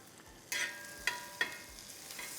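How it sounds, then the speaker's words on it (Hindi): Garlic, ginger and green chilli cook gently in melted butter with a little oil, a faint soft sizzle broken by three quiet scraping stirs of a spoon. "इस मेल्टेड बटर में जाएगा थोड़ा सा गार्लिक, थोड़ा सा अदरक"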